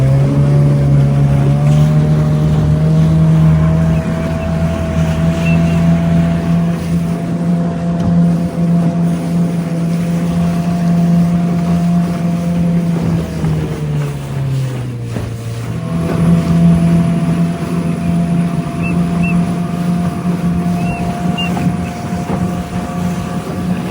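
The outboard engine of a small aluminum motorboat idles near the microphone with a steady low drone, shifting pitch briefly midway, while wind buffets the mic and water sloshes around the hull.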